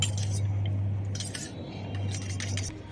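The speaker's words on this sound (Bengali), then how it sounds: "খুব ভালো করে এই জলের সাথে মিশিয়ে নেব" A spoon stirs powdered red food colour into water, giving light metallic clinks and scraping against the container over a steady low hum, with no talking.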